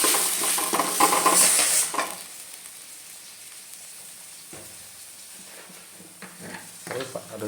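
Chili powder is stirred into a sizzling oil tempering for a village-style sprouted horse gram sambar, giving a loud crackling burst for about two seconds that then drops to a faint simmer with occasional stirring scrapes.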